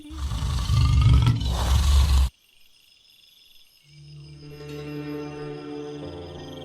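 A tiger's loud, rough roar rumbles up close for about two seconds in a radio drama, then cuts to near silence before a steady chorus of crickets and night insects rises in the background.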